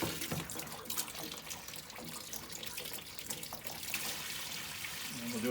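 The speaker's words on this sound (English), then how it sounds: "Before it all comes out, I'm going to swish the tank around some." Liquid sloshes and swishes around inside a rusty motorcycle gas tank during rust removal, a continuous close-up watery churning with irregular splashes throughout.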